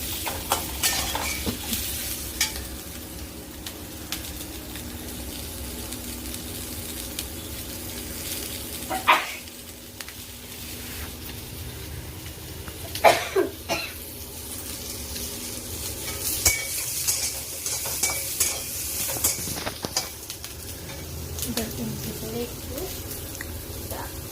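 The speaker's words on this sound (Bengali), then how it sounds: "নাড়াচাড়া করে নেব, খুব ভাজবো না, ভাজলে ক্যাপসিকামগুলো নরম হয়ে গেলে ভালো লাগবে না খেতে" Capsicum stir-fried for chilli chicken in a pan: a steady low sizzle with occasional utensil scrapes and clinks, while a person talks over the cooking.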